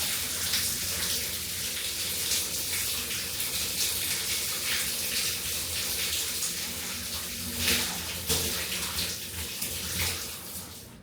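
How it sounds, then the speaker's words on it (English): A powerful hotel shower at The Boulevard Hotel in Blackpool runs in a strong, steady gushing stream, close and continuous, with no talking over it. "So let's check out the shower"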